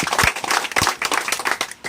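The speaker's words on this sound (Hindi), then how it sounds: "जोरदार ताली हो जाने चाहिए इनके लिए।" A seated audience at a company gathering breaks into a short, loud burst of clapping close by, sharp individual claps overlapping in a quick, uneven patter for about two seconds.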